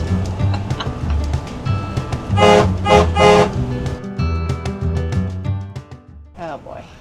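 Loud air horns blast in several long honks from vehicles in an RV caravan setting off on the road, with music and engine rumble underneath and brief voices between blasts.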